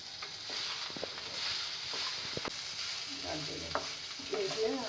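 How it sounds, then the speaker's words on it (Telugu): A spoon stirs sliced bitter gourd frying in a pan, with a steady low sizzle underneath and light scraping, clinking strokes that get busier toward the end. "తర్వాత మళ్ళీ కలపాలి."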